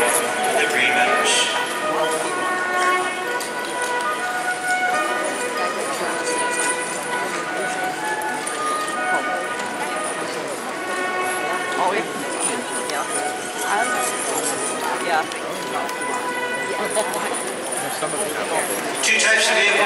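Dutch Warmblood horses' hooves clip-clop steadily on hard ground, several animals at once, under someone talking throughout, at a royal horse show with four-in-hand coaches.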